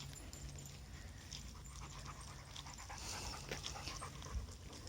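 A dog pants steadily and close by on a long line walk during recall training, the quick rhythmic breaths carrying on through the whole stretch with some faint rustling around them.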